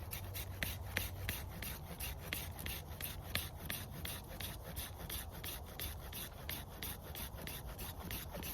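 A dull blade cuts brush about 2 inches thick on a woodland trail, giving a steady, rapid rasping rhythm of repeated strokes, close and fairly quiet, with no talk.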